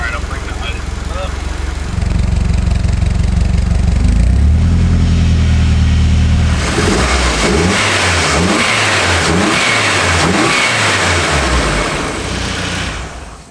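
A Nissan 180SX engine is cranked, catches and idles, then revs up in several loud, close bursts before settling, with no talk over it.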